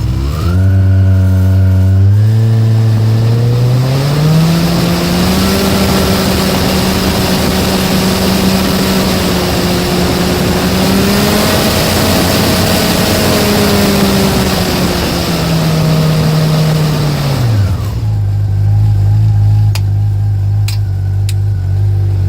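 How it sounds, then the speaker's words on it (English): A Yamaha RX-1 engine, with its ECU running on stator power and fed by a vacuum fuel pump, runs loud and close under load. Its pitch climbs, holds a high steady drone with slight wavering, then drops back to a lower idle near the end. "But it's running good under all power, all throttle settings, so that's good news."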